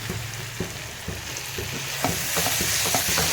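Tomatoes sizzle steadily as they fry in a pan for a chaat masala cauliflower and potato dish, with soft irregular scrapes and knocks from stirring over the hiss. No one speaks.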